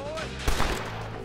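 Gunfire in the Western video game Red Dead Redemption: a sharp burst of shots lands midway through, loud and close over a steady rumbling game background.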